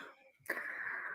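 A single sneeze bursts out abruptly, a sharp onset trailing into a breathy, hissing release that lingers for most of a second.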